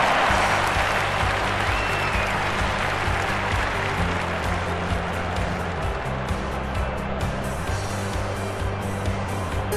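Crowd applause in the London 2012 Olympic video game: a dense, continuous wash of clapping and cheering from a large stadium crowd, loud and steady throughout with a low rumble beneath.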